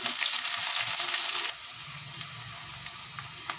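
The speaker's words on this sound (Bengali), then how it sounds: "রসুন আর পেঁয়াজটা ভালো করে ভেজে নিয়েছি" Garlic and chopped onion frying in oil give a loud, bright sizzle for about a second and a half. A softer crackling simmer with faint stirring clicks follows.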